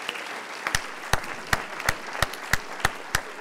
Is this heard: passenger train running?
no